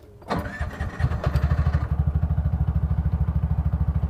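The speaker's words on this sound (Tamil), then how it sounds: "என்ஜின் ஸ்டார்ட் பண்ணுறது எவ்வளோ ஸ்மூத்தாக இருக்குன்னு நீங்கள் பாருங்கள்" A vehicle engine cranks briefly and catches, then settles into a smooth, even, rhythmic idle close by, with no talking.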